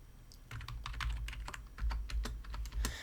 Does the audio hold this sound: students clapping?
no